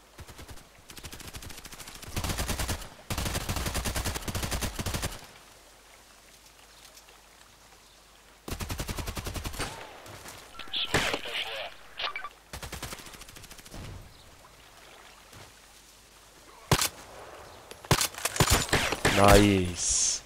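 EBR marksman rifle in the video game Contract Wars fired in quick succession, sharp shots grouped in clustered bursts separated by quiet gaps, with faint game ambience between.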